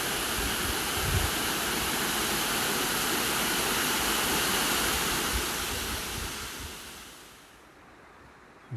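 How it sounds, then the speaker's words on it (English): Waterfall and rushing water in Posforth Gill, a steady loud broadband roar close by that fades toward the end as the listener moves away. "the cacophony of the sound of running water"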